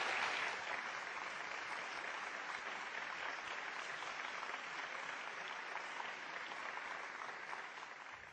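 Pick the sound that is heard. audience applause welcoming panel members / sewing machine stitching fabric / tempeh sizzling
audience applause welcoming panel members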